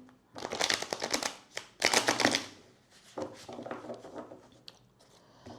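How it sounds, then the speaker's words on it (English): Tarot cards are shuffled briskly in two loud riffling bursts, followed by softer shuffling and tapping, close up with no voices. "One more shuffle."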